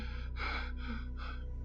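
A man breathes heavily and rapidly into a microphone in a series of harsh, gasping breaths, close and alone over a low electrical hum.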